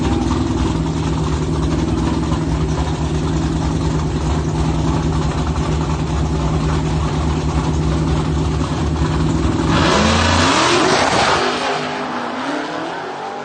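A Dodge Hellcat Redeye idles with a deep, loud, steady rumble at a drag strip. Near the end the engine roars hard as it launches on a drag racing pass, then the sound fades as the car pulls away.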